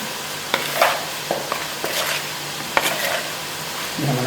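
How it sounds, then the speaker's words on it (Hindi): Crushed chilli being mixed into mustard chicken, with close, irregular scraping and clacking strokes of a spoon against the pot over a faint sizzle and no talking. "इसको हम करेंगे अच्छी तरह मिक्स।"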